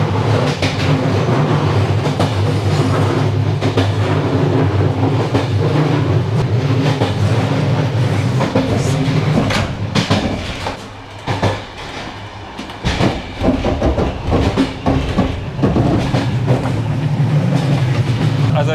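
A Bulgarian passenger train rolls along with a steady, loud rumble and recurring clickety-clack of wheels over rail joints, heard from inside a carriage, briefly easing midway before resuming.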